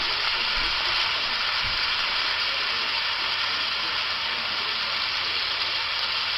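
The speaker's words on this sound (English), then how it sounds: "So we're browning them up nicely." Beef rouladen brown in a frying pan, giving a steady, dense broadband sizzle that holds evenly throughout at moderate loudness, with no speech.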